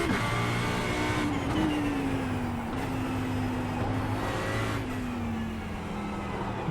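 Audi R8 LMS EVO II GT3 race car engine in iRacing at Motorland Aragon, a steady loud drone holding a sustained pitch that slowly sags as the car lifts, continuous with no speech.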